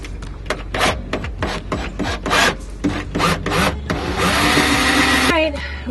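A drill working through the metal floor of an RV, biting in short repeated grinding bursts, then settling into one long continuous drilling run before stopping, close and loud.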